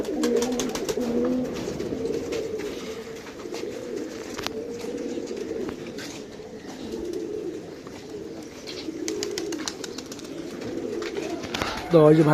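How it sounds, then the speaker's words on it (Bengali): Pigeons coo in a low, repeated rolling pattern, close and continuous, with occasional sharp flaps or clatters between the calls and a loud burst at the very end. "কবুতর যেগুলো উপরে উড়ার এগুলো উঠতেছে আর যেগুলো বসে থাকা বসে থাকতেছে"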